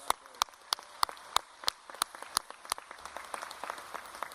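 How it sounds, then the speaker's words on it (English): At a college commencement ceremony, one nearby pair of hands claps sharply and evenly, about three claps per second, above softer scattered applause from the wider audience. "I want everybody to see David and give him a round of applause."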